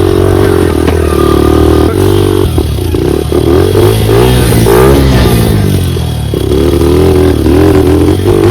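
An enduro dirt bike engine revs continuously on trails, loud and close, with a rising and falling motor drone and some clatter, with no talking.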